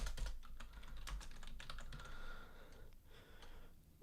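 Rapid, uneven clatter of keys on a computer keyboard as code is typed, close and steady for the whole stretch with brief pauses between bursts, no voice over it.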